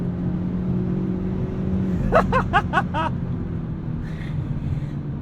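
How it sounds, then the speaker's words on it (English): A 2023 Hyundai Elantra N with DCT accelerating hard, heard from inside: a steady low engine drone with a quick series of five sharp pops from the exhaust midway, then the engine note carries on. "now I'll just put my foot down, let all that 286 horsepower channel through the front tires"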